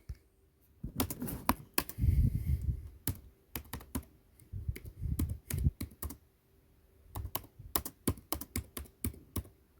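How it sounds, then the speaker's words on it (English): Bursts of clicky typing on a computer keyboard, quick uneven keystrokes in clusters separated by short pauses, fairly close. "I'm typing with one hand."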